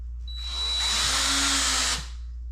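A power drill drives a screw into a support beam: a single close, loud motor whine that rises, holds for about a second and a half, then cuts off.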